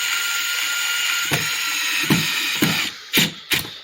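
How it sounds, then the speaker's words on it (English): A drill hums with a steady whine that shifts in pitch, then cuts off into a few sharp mechanical clicks and thumps. "you can actually hear the drill change tones"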